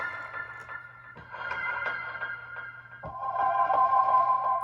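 Synth chords from a synth plugin on an Akai Force with its reverb effect ring out with a washy, lingering tail, a brighter, louder chord taking over in the second half; no talking.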